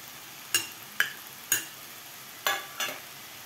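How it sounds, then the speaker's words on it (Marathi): Chopped spinach stirred into a hot spice masala for palak dal khichdi, giving five sharp scraping stir strokes spaced about half a second to a second apart over a faint, steady sizzle, close and alone. "पालकसुद्धा आपल्याला व्यवस्थित 2 ते 3 मिनिट परतून घ्यायचं आहे खालच्या मसाल्यामध्ये"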